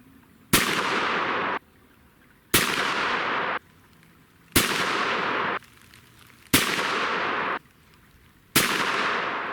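A Remington 870 pump shotgun with a Carlson rifled choke fires Hornady American Whitetail sabot slugs outdoors, five loud, sharp blasts spaced about two seconds apart, each followed by a short decaying echo.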